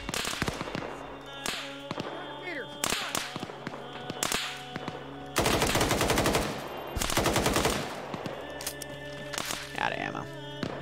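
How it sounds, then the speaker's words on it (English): A minigun in a video game roars in long, rapid bursts of continuous fire, broken by shorter gunfire and impacts, with voices talking over the shooting. "Get on the minigun."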